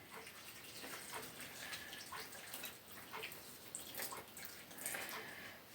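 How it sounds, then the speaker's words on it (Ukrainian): Hot water pouring steadily into a bowl, a soft continuous splashing stream, close and fairly quiet. "Заливаємо все це діло гарячою водою"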